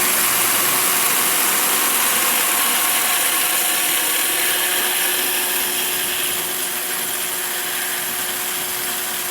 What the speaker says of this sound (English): So we can drill